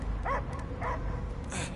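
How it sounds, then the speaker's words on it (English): A dog barking in the Guardians of the Galaxy video game, three short yelping barks spaced across a brief moment over a low ambient game background. "I hear only barking."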